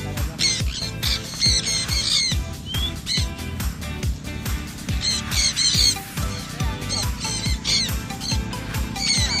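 Parrots in free flight, a sun conure, green-cheeked conure and cockatiel, give repeated shrill squawks and chirps close by over a steady low rhythmic background.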